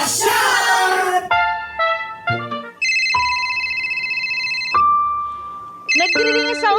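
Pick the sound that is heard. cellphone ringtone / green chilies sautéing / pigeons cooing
cellphone ringtone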